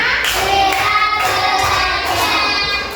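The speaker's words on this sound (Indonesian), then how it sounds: "Mbak Ayu, tepuk 1, tepuk 2, tepuk 3, tepuk 4, tepuk 5." Children in a classroom clap in a steady rhythm as a group, a dense continuous patter of hand claps with no pauses, fairly loud and close, with no talking over it.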